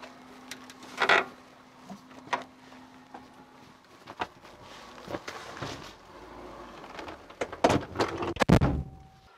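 Several clunks and thumps of a Shacman F3000 truck cab door being opened and handled, with a faint steady hum underneath and a brief tone near the end.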